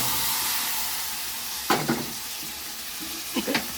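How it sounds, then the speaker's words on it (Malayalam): Curry with roasted coconut and koorkka (Chinese potato) bubbling in a pan, giving a steady close sizzle and hiss, broken by a few short stirring scrapes midway and near the end. "ഇതേ നമ്മുടെ കറിയൊക്കെ നല്ലോണം തിളക്കണുണ്ട്"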